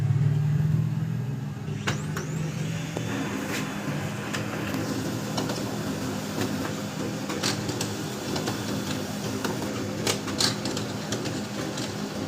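A Brother MFC-7360 laser printer with a black-spot printing fault runs through a page, giving a steady mechanical whir with scattered clicks and feed clatters, close and alone.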